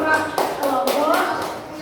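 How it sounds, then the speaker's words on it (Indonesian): Students in a classroom clapping for a group, a short burst of several claps close to the listener, with some voices mixed in. "Udah beri tepuk tangan teman-teman buat kelompok"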